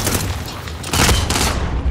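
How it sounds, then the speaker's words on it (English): Rapid gunfire from the video game Call of Duty: Modern Warfare, a loud close volley of shots and booms that grows heavier partway through. "Receiving hostile fire."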